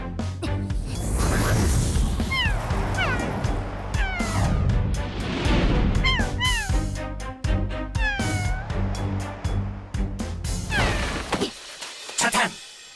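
A cat meows repeatedly in drawn-out, rising and falling cries, some strained like a caterwaul, amid background music and occasional thumps and crashes.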